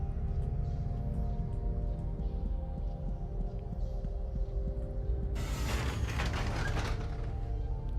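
Video game elevator machinery: low mechanical rumble and hum with faint creaks, joined near the end by a louder burst of clattering machinery.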